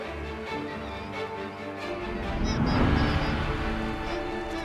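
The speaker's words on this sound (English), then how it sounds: "It's a perfect opportunity for these hungry kittiwakes." Kittiwakes calling as they feed in turbulent water at the base of a Svalbard glacier in the Arctic, a dense flock of overlapping cries that swells in the middle, with no voices.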